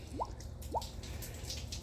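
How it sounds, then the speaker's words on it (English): Two distinct water drips fall while a 2014 Jeep Grand Cherokee 5.7 Hemi cooling system is purged, each a short rising plink about half a second apart over a low steady background hum. "Purging a little bit of that water out."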